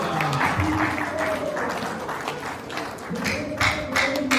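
Applause from an audience at a book launch honouring a head of works, steady clapping filling the room with some speech-like murmur mixed in throughout.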